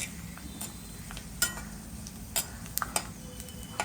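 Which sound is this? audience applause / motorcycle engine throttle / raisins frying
raisins frying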